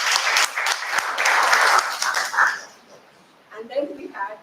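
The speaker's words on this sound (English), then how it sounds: "So let's give Ryan also a good round of applause." Audience applause at a Toastmasters meeting in Bangalore: a dense burst of clapping that fades out after about two and a half seconds, followed by a quiet gap and faint room noise.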